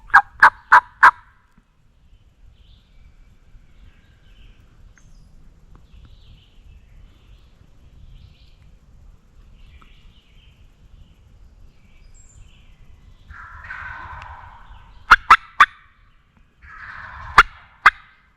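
Wild turkeys gobble from a field at the wood's edge during a spring hunt, loud bursts of rapid gobbles at the start and again near the end, separated by a long quiet stretch of faint rustling.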